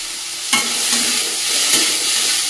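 Grated carrot added to onion, ginger and green chili frying in a pan gives a steady close sizzle, with a spatula knock at the start and light scraping as it is stirred, no speech.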